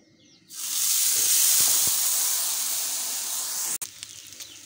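A second omelette hits hot oil or ghee with a sudden loud, steady sizzling hiss that lasts about three seconds, then cuts off abruptly and leaves quieter kitchen sounds.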